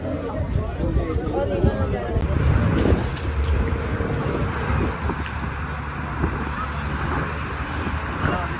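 A tourist boat ride on the sea at Kanyakumari, with a steady rush of engine and water and gusts of wind buffeting the microphone, constant and fairly loud throughout.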